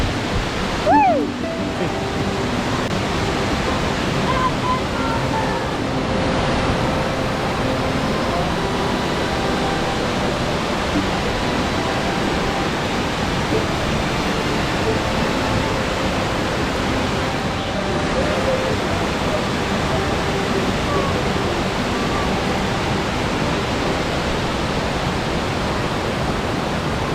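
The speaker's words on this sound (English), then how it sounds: "check out this waterfall!" Waterfall at High Falls State Park, Georgia, a loud, constant rushing roar of falling water up close, with a brief voice near the start.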